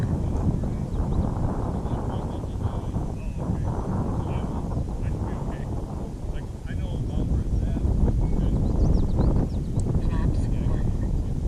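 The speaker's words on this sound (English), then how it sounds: "Whoa, getting a little gusty here." Gusty wind buffets the microphone at an RC airfield, a constant broadband roar rising and falling, with faint distant model aircraft noise mixed in.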